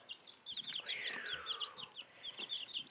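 Chickens in a homestead pen give repeated short clucks and chirps across the clip, fairly close and moderately loud, with a steady hiss of background noise and no talking.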